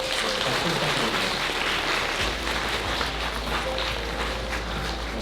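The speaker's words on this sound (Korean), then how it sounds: "박수 부탁드립니다." Wedding guests applaud at a ceremony in a hotel hall, a dense steady wash of clapping that carries on throughout, moderately loud with a low rumble underneath.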